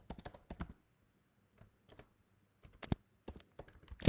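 Quick bursts of typing on a computer keyboard while entering JavaScript code, crisp clustered key clicks separated by short pauses, close and fairly quiet, ending with a sharper tap.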